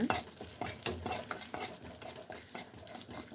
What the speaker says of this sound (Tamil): இப்போ இதை வந்து ஆயிலே கொஞ்சம் லைட்டாக அப்படி கிளறி விடுங்க